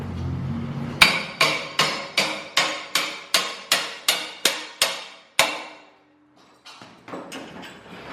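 Hammer blows drive clips into a Twin Busch car lift in a garage, about a dozen sharp metallic strikes in steady rhythm, close and loud, followed by a pause and a few lighter taps.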